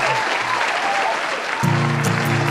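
Audience applause for Brian Keener during a livestream, a dense steady patter of many hands, with a low tonal hum joining partway through.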